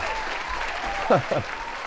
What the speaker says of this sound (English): I don't know why I've got the applause going.